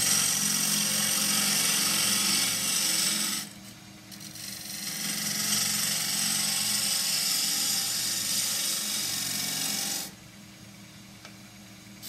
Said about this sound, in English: take a shear cut that way, which I can do with the spindle gouge.